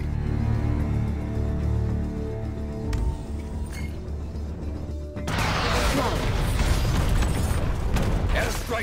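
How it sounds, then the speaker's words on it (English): Airstrike explosions in the mobile shooter Tom Clancy's Elite Squad, a loud burst of crashing, rumbling blasts erupting midway and continuing in dense debris-like clatter over a mechanical game soundtrack. "target acquired. Airstrike."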